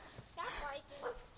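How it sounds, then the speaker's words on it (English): A dog named as a rescue being fostered whimpers and yips in short high whines, two brief bursts close by, with a low room murmur underneath and no clear speech. "that's my dog Bear"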